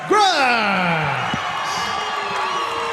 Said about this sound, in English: Trevor Grice getting all the praise and applause in the event center tonight